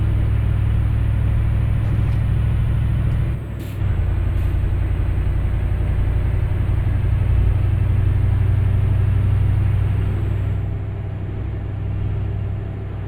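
Kamaz truck engine rumbling steadily while driving in Euro Truck Simulator 2 on a northern Russia map, deep and continuous with a brief hiss like an air brake release, no talking.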